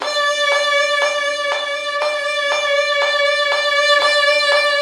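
A sustained violin note wavers with steady vibrato, pulsing rhythmically at four cycles per beat, close and clear with no other sounds.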